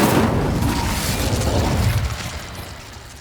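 Fiery Incendio spell blast from Hogwarts Legacy, a loud broadband burst with a dense crackling rumble that holds strong and then slowly fades over about three seconds.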